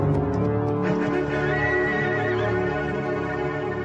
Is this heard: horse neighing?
yes